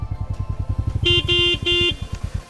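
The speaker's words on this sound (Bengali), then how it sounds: "পুরো হর্ন এখন ঠিক করে দিয়েছে মস্ত বাজছে এখন হর্ন" A vehicle horn, just repaired, blares in three loud, steady honks close by, the second one longest, over the rapid, throbbing putter of an idling engine.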